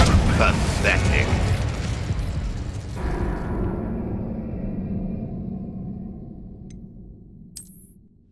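Spell blasts in Hogwarts Legacy erupt as loud booming explosions at the start, then rumble and fade into a long decaying tail ending in near silence with a small chime.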